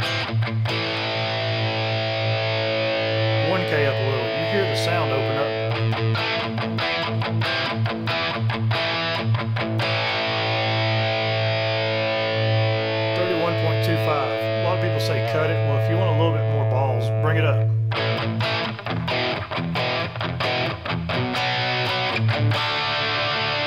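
Electric guitar played through a Headrush effects unit with the 500 band of its EQ boosted, a loud, sustained distorted tone ringing continuously for over twenty seconds.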